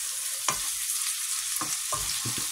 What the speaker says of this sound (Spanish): Que tenemos que freír la carne.